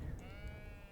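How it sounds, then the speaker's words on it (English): Sheep bleat in the cozy building game Tiny Glade, a single sustained, wavering bleat heard close and clear over a soft ambient background. "apart from the sheep."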